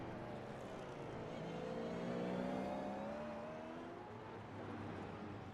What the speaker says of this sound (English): heavy supercars with the live rear axle just really struggling to get the power down off of some of these 90-degree corners tonight